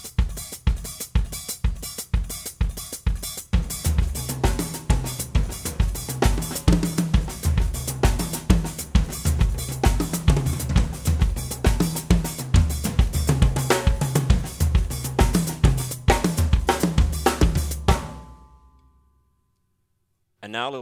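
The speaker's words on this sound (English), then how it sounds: "On top of the foot pattern, I'm playing a Mozambique-type African rhythm." A drum kit plays a busy, slow Mozambique-style groove with doubled hi-hat strokes over a steady kick pattern, then stops abruptly near the end.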